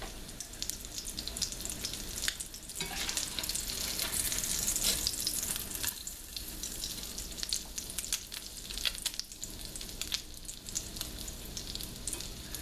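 A crab cake frying in a pan makes a steady, dense sizzle of hot oil that carries on close and loud throughout, with a few brief dips and scrapes, and no one speaking.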